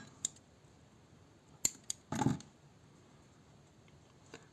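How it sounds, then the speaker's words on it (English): Scissors cut crochet yarn: a few sharp snips, then a brief crunching cut near the middle, close and quiet against a faint background. "cut this yarn"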